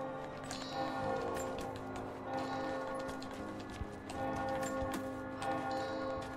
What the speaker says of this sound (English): Someone's playing that church bell.